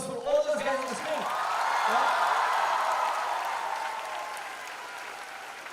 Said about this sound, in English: A huge round of applause for all those guys on the screen